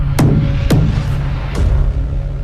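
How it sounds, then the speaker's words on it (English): Three sharp knocks land on a door, two close together then one after a pause, over a steady low hum. "A knock on the door."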